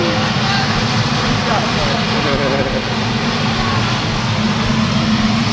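A loud, steady roar of a nearby airplane engine at a skydiving site fills the whole stretch, constant and droning, with voices partly buried underneath.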